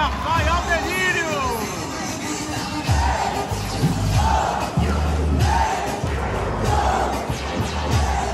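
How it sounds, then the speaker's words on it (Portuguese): A football stadium crowd roars at Curuzu as Paysandu scores against Bragantino, with loud, swelling cheers under an excited commentator's voice. "É gol do Babão e a torcida vai ao delírio."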